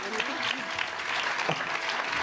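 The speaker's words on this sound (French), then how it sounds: "Big applaudissement." An audience at a school closing concert claps steadily, a dense, even wash of applause with a voice briefly audible underneath.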